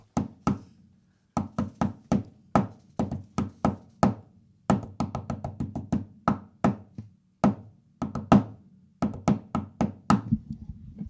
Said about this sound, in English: let me give everyone my secret knock for the Downtown.